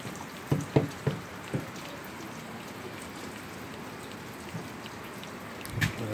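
Steady, soft rain patters outdoors, a continuous hiss broken by a few closer drips and taps near the start and again near the end, with no one speaking.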